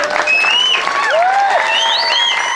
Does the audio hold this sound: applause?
yes